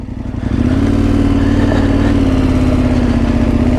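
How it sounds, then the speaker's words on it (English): A KTM 1290 Super Adventure motorcycle engine revs up after a quieter start, then holds a loud, steady, throaty drone close to the rider, with no talk. "This motor sounds like it wants to just tear something apart"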